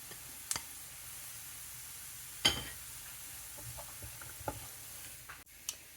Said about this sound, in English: We've got the onions and garlic frying away.